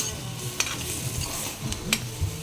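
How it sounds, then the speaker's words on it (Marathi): Masala sautéed with onions in a pan for mushroom butter masala, a continuous sizzle with scraping spoon strokes as it is stirred, close and fairly loud, no voices. "हे छान असं परतून घ्यायचं कांद्यामध्ये मसाला सर्व"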